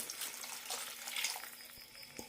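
Half a cup of water is poured into a drumstick and coconut milk stew in the pot, giving a steady, close splashing stream with no talking.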